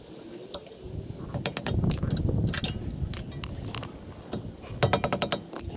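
Metal tools clink and tap against a brake caliper on a 2019 Toyota Sienna as a caliper bolt is loosened while a vise grip holds the turning pin, a close run of sharp metallic clicks and knocks in irregular bursts.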